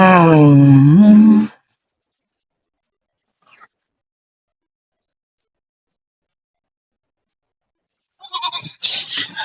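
A single loud goat bleat, wavering and drawn out, followed by a long silence and then a few rustling, scraping sounds.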